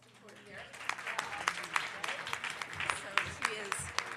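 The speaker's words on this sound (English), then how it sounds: "And another clap for Dee Dee, who's a respiratory here." A small audience applauds at a medical presentation on oral corticosteroids and biologics, a modest spread of clapping that builds and holds over a murmur of room voices.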